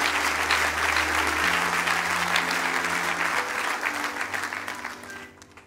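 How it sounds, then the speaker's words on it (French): A church congregation applauds together, dense sustained clapping that fills the room and then gradually thins and fades toward the end. "Acclame quand même."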